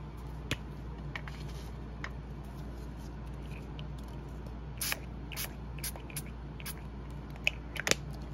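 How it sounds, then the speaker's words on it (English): A few short, crisp spritzes of Salvage Patina Distress Spray hit a small strip of crepe paper in a quiet crafting room, brief hissing bursts clustered near the end over a steady low hum. "I'm going to spritz that with some salvage patina distress spray"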